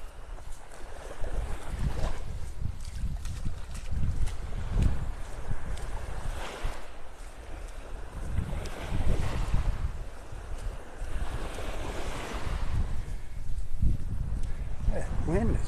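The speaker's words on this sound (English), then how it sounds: "That wind is really picking up." Strong wind buffets the microphone on Vanderbilt Beach in North Naples, Florida, with a steady roar and heavy low gusts throughout, and surf faintly underneath.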